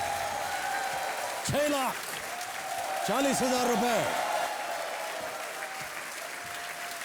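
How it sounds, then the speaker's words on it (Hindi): A Kaun Banega Crotepati quiz-show studio audience applauds loudly and steadily throughout, while a host's voice carries clearly over the clapping. "और तालियां बजती रहे देवियों सजनों।"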